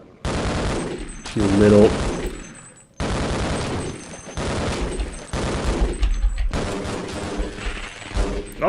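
Submachine gun fire aimed at a monster in Half-Life: sustained, loud bursts of rapid automatic shots with brief gaps, crackling and dense throughout, while someone talks over the gunfire.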